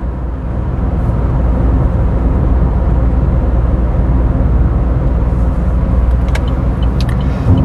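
A gasoline car with a manual gearbox pulls uphill in third gear, its engine droning loudly and steadily from inside the cabin, with a few faint clicks near the end.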